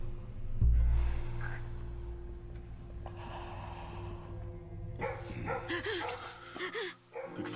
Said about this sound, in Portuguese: Quando ela ouviu os cachorros latirem, Joseph, Joseph.